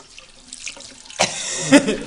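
Water runs from a sink tap as hands are washed beneath it, a soft trickle swelling into a louder, fuller gush with a couple of splashy peaks, close by and with no talk over it.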